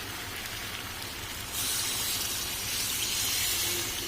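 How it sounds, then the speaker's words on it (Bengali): Warm water gushes into a pot of browned mutton curry, a steady splashing pour that gets noticeably louder and fuller after the first second and a half and keeps running. "ভালো করে মাংসটা কষানো হয়ে গিয়েছে এবার আমি দিয়ে দেবো এর মধ্যে জল"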